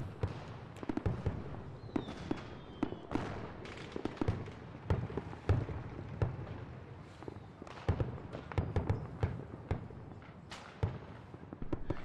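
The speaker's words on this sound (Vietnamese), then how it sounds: "Anh nhìn kìa, pháo hoa." Fireworks burst over and over, a dense run of sharp cracks and booms at irregular intervals with crackling tails, moderately distant and heard with no speech.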